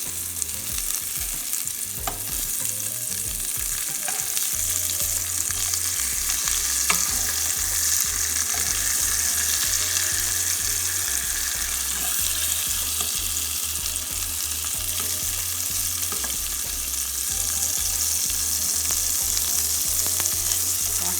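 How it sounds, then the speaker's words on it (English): White onion sautéing in rendered bacon fat for a bacon cheeseburger, a steady, close, bright sizzle with occasional stirring scrapes and a low thumping hum underneath, continuous throughout with no talking. "I'm just going to use the fat from the bacon to saute these delicious white onion in."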